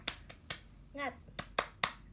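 A few quiet, rhythmic claps tap out a short chant pattern in a spaced beat, with a brief voice breaking in between them during a casual live stream.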